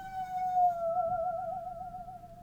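A bowed saw sings a single sustained wavering note with gentle vibrato, sliding slightly in pitch, clear and alone over a faint low background.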